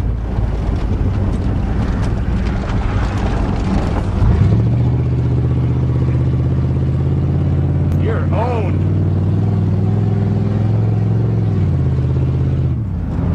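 A 1988 Chevy truck with an automatic gearbox and highway gearing drives along, its engine droning steadily with wind noise. The drone drops and changes pitch as a gear shifts, and a voice briefly cuts in.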